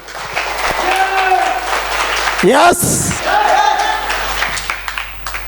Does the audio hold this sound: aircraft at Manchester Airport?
no